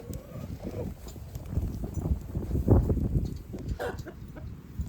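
Grain-fed chickens on a farm in winter cluck and shuffle close by, with irregular soft clucks and scratching sounds over a low background and no clear speech.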